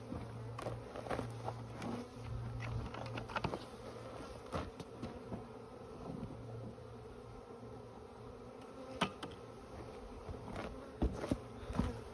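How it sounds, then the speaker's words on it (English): A dense, continuous buzzing of thousands of honey bees being installed in a hive from a package, steady and close, with occasional rustling and light tapping sounds. "So you can see I dumped thousands of bees in there"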